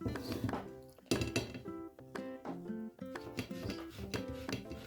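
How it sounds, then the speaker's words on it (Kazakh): Boiled potatoes rubbed over the finest side of a metal grater for a New Year salad, a run of close, rhythmic rasping strokes with small clinks, no talk. "Осындай терканың ең майда көзінен өткізіп аламыз. Барлығын картошкамызды да өткіземіз."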